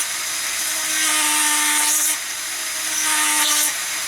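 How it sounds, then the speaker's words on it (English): An electric drill whines steadily through two separate runs, each lasting over a second, with a short pause between them as holes are bored in a circular pattern in parts for an X-Wing model build. "I'm going to draw a clock face of holes with the drill"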